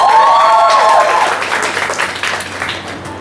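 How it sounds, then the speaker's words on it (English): Students at a college of horticulture freshers' day applaud the second-year students: a loud burst of crowd clapping that starts strong and gradually thins and fades, with a brief tonal ringing sound early on. "So one big clap for second year."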